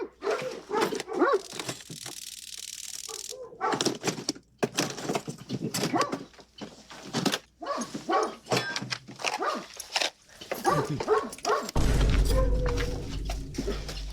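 A dog barks and whimpers from inside a locked RV, with repeated sharp barks and yips scattered throughout, mixed with whining and some thuds, ending with a loud low rumble.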